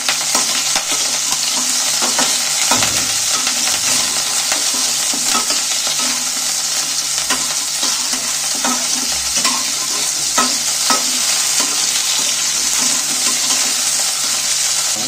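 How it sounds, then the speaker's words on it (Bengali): Chicken pieces stirred and fried in oil for momo filling, a loud, unbroken sizzle with repeated utensil scrapes and light knocks against the pan throughout, without any talking. "দিয়ে আমি এখানে একটু নেড়ে নেবো তেলের মধ্যে"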